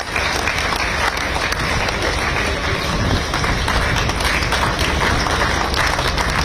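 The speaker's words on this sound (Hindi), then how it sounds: "स्वयं तालियां बजाएंगे, स्वतः तालियां निकलेंगी" A large crowd applauds at an Independence Day ceremony in Uttar Pradesh, loud, dense and continuous clapping that holds steady throughout.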